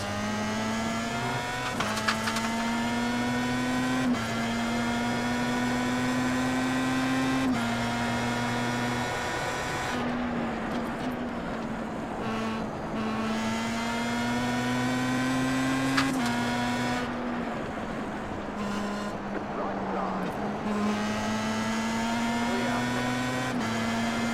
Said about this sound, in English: the fans blow at an appropriate speed based on how fast the car's going